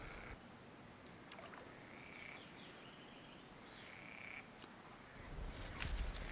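Toads croak near water in quiet countryside, a few faint trilling calls rising over low ambient background noise, with some rustling and handling sounds near the end.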